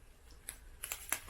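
Scissors snip at box packaging for a seasonal unboxing, a few quiet, sharp cuts spaced apart against near silence.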